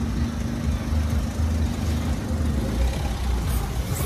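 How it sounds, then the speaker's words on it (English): A car rumbling close by as it mounts a footpath on a street in Ramsgate, a steady low engine drone with traffic noise, loud and continuous with no talk. "This car's trying to mount the path and run me over."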